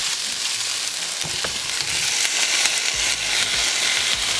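Tomatoes and onion sauté together for chole masala, giving a lively, close sizzle with soft stirring thumps and scrapes underneath and no talking.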